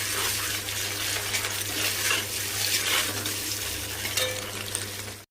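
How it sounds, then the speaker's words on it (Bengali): Egg frying lightly in a pan as the first step of a home-cooked egg curry, giving a steady, fairly loud broadband sizzle that runs unbroken for about five seconds under a low constant hum, with no talking. "ডিমের কারি করব, তাই জন্য ডিমটা একটু ভেজে নিচ্ছি হালকা করে।"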